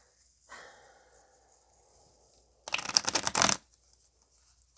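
Tarot cards from a small deck riffled and shuffled in a short, dense flurry of papery flicks close by, after a brief soft rustle, in an otherwise quiet room.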